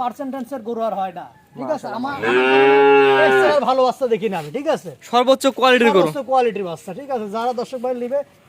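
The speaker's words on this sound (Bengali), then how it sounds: "এটা অনেক সুন্দর একটি গরু" A Holstein cow moos loudly in a long, drawn-out call that stands out among nearby voices talking before and after it.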